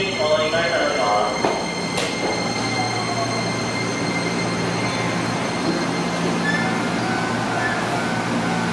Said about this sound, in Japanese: やってきたのはスカイアクセス専用の車両3100形です。